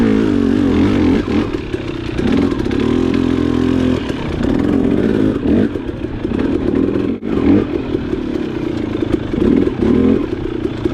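A dirt bike rides a tight wooded trail between trees, its engine loud and close, rising and falling as the rider shifts and throttles, with rattles and clatter from the rough ground throughout.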